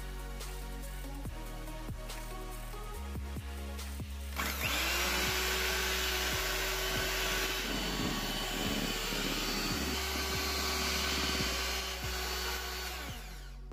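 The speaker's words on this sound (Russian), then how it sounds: "Теперь берем миксер и взбиваем." Electric hand mixer whisking eggs with sugar for a cake batter, a steady whirring motor hum that starts loud at about four seconds and holds strongly, with pitch shifts as the beaters work the bowl; no one speaks.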